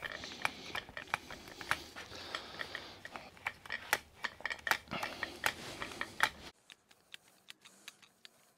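A manual grease gun pumps grease into a trailer axle bearing, making repeated sharp metallic clicks and squelches at an uneven rhythm, close and fairly faint, with a quieter stretch at the end.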